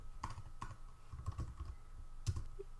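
Someone types code on a computer keyboard, with a few scattered keystrokes and short bursts of clicking, close and quiet, with no voice over it.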